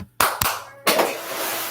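Two sharp hand claps ring out close by, made to set off a Spirit Halloween Mr. Dark animatronic, followed by a brief pause and then a sustained rushing noise.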